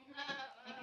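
A single short, close goat bleat while a doe is held down during kid delivery outdoors under an overcast sky.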